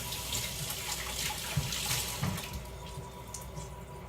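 Tap water runs steadily into a sink while homemade starch slime is rinsed, a constant close splashing flow with a couple of soft knocks.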